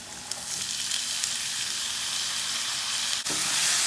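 Potatoes frying with lightly browned onions in a hot pan give a steady, close sizzle with brief stirring scrapes and one short break in the hiss, with no voices.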